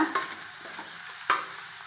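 Chili powder, soy sauce and noodle sauce being stirred together in a pan for Schezwan fried noodles, with a low sizzle under two distinct scraping knocks of the utensil; no talking.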